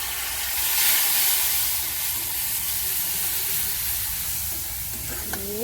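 Cumin powder and spice paste frying in a pan, a loud continuous hissing sizzle with steady stirring, ending in a brief clink.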